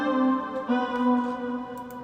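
The FM Voices 1 synth preset in FL Studio plays a sustained, buzzy, harmonically rich tone that shifts pitch a couple of times over about two seconds, clean and alone with no talking.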